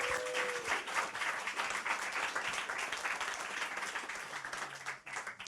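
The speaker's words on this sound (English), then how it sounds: "Let's give them applause." Sustained applause from a crowd at a music industry panel event, a thick continuous wash of clapping that holds steady for about five seconds before briefly dipping near the end.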